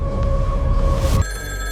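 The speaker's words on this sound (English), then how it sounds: "the landline phone inside the house suddenly rang" A landline telephone inside a house rings with one loud electronic ring, close and steady, and the tone shifts sharply partway through.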